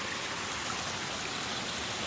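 A small winter creek tumbles down over rocks, giving a steady, close rush of running water that holds even throughout with no voices.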